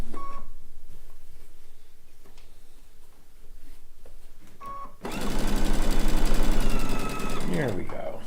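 A sewing machine stitches a quilt seam, running in a loud, steady rhythmic burst in the second half after quieter handling sounds and faint voice earlier.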